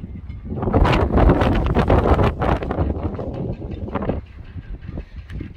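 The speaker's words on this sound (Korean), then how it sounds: "자, 바람이 많이 부네요." Strong wind gusting at a mackerel fishing spot, buffeting rumble on the microphone that swells loudly and then eases into lighter, uneven blustering, with no speech.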